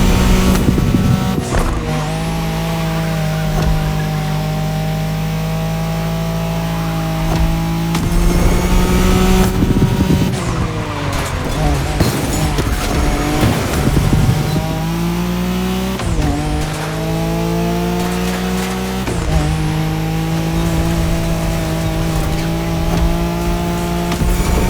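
Nissan Skyline racing in The Crew Motorfest, a loud, steady engine howl rising and falling through gear shifts, with tire squeal and skidding mixed in throughout, close and continuous.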